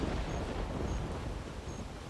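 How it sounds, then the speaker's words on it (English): Thunderstorm weather while hunting in theHunter Classic: a heavy, steady roar of rain and rumbling thunder, loud and continuous throughout, with no talk. "Now we have some thunderstorm."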